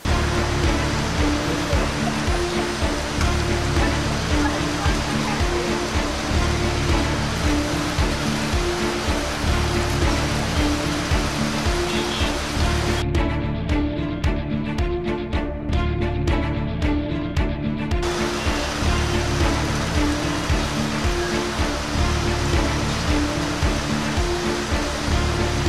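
Heavy unseasonal December rain pours down in Navi Mumbai, a loud, dense, unbroken roar of falling water lasting throughout, its hiss briefly dulled for a few seconds midway.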